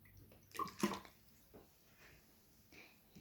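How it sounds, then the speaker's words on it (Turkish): Water poured into a jar while making a homemade snow globe: a short splashing burst followed by faint trickles and drips, close and quiet. "İlk önce kavanozumuz içine su koyuyorum."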